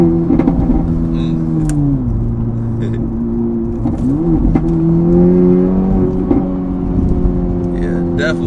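An Acura Integra Type S fitted with a Milltek catback exhaust, switched to sport mode, holds a steady throaty idle with small rises and dips in pitch, sounding close and loud for several seconds.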